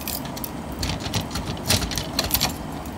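Keys jangle and metal clicks as a residential mailbox in Sacramento, California is unlocked and opened, with a few sharper clanks near the end.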